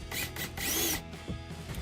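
A power tool drives screws into a rear diffuser on a 2015-2023 Dodge Charger SRT in short, close bursts of whirring with brief pauses between them.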